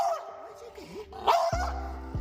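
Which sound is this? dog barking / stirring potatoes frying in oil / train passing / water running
dog barking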